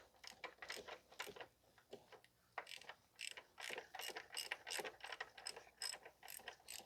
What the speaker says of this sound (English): you just need a half drive ratchet and a 22 millimeter socket